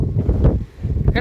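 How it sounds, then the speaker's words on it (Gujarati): Strong gusts of wind sweep through farm fields during a sudden rain shower, buffeting the microphone with a loud, continuous low rumble that briefly dips mid-clip before surging back. "કેટલો પવન છે"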